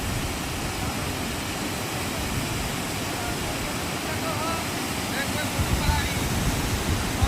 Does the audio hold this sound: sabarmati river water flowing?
yes